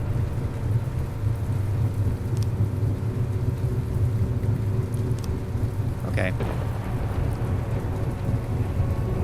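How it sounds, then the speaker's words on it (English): Steady rain pours with low rumbling thunder inside a submarine in the game From the Depths, the storm continuous throughout with a brief louder crackle midway; a voice speaks one short word. "why is it raining apparently inside here?"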